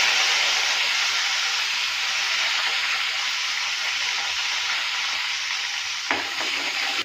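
Coriander and curry leaves sizzling as they are dropped into hot oil for a tempering, a steady loud hiss and crackle with one brief clink near the end, no voices.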